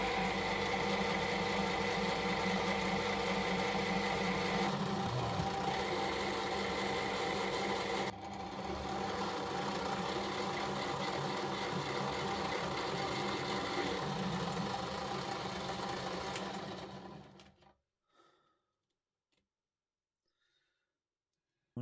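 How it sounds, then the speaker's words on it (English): A lathe turns down a piece of steel for an antique Maybury percussion pistol repair, giving a steady, close mechanical whir with a slight shift midway that runs for over fifteen seconds before stopping into silence. "I'm going to turn it down on the lathe."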